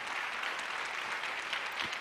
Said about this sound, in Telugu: గట్టిగా చప్పట్లు కొట్టి ప్రభుని మహిమపరచండి.